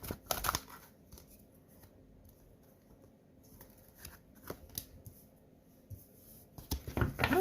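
Tarot cards are shuffled in quick papery bursts, with crisp riffles and softer sliding between them, close by and alone.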